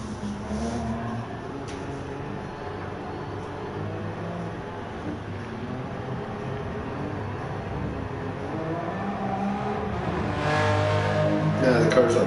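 Race car engine in Gran Turismo Sport, driven with a Fanatec wheel and pedals, droning steadily with shifting harmonic pitch and rising toward the end, close and continuous.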